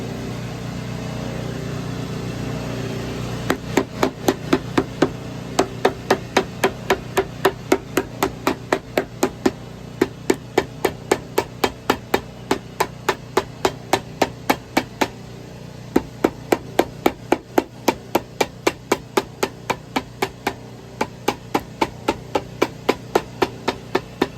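Steady hammering, a long run of sharp, evenly spaced blows that starts a few seconds in and carries on at a brisk, regular rhythm, close and loud, with no talk over it.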